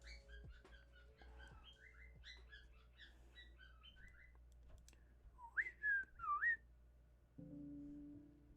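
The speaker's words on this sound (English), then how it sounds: "We got the happy birds." Birds chirp in a rapid run of bright, quick notes, followed by a few louder, clearer whistled calls standing out over a quiet background.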